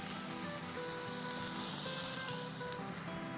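A soy-based sauce hits frying vegetables for a pepper steak in a hot pan, giving a loud, steady, close sizzle with no talk.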